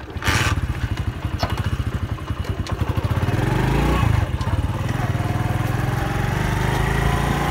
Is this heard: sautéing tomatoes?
no